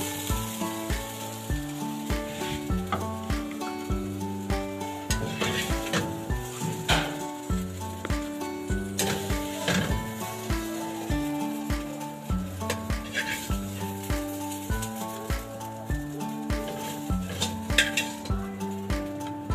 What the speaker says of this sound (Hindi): ये देखिए हमारी भिंडियों को फ्राई होते 3 से 4 मिनट हो गया।